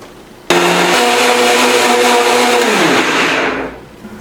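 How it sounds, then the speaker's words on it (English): A blender starts abruptly and whirs loudly at close range, blending a raspberry smoothie with a steady motor whine that drops in pitch and winds down near the end. "And next, we're going to blend it up. Always make sure your lid is on."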